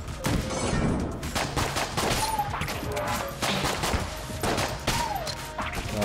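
Rapid gunfire from the dungeon-crawler game Enter the Gungeon, dense bursts of shots and crashing impacts rattling continuously over game music for several seconds, loud and close.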